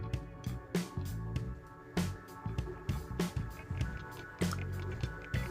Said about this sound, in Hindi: इसमें आधा नींबू का रस डालेंगे।